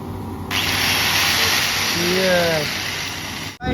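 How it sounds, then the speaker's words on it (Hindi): An angle grinder spins up abruptly at full power before cutting metal for a truck light installation, holding a loud, steady high-pitched hiss for about three seconds with a voice briefly talking over it before it cuts off. "ग्राइंडर को चेक कर रहे भाई, फुल पावर"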